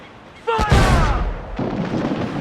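A ship's cannon in Assassin's Creed IV Black Flag fires with a sudden heavy boom that rolls into a long rumbling tail, a second blast following, while someone shouts an order just before.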